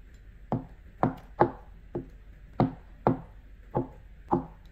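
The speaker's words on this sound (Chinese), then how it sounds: "豆腐切小丁" Knife chopping tofu into small cubes on a cutting board, eight crisp evenly spaced knocks with a steady rhythm, close and clear with no talking.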